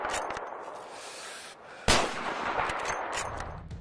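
Video game gunfire from Battlefield or Call of Duty weapons, a dense roar of shots with one sharp loud blast midway, continuous and alone without voices.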